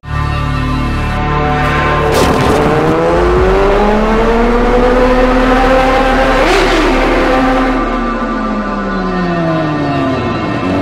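A Kawasaki ZX25R motorcycle with a 300cc bore-up engine rides on a road toward Jakarta, its loud engine revving and climbing through the gears in rising and falling sweeps, with two sharp surges as other vehicles rush past close by.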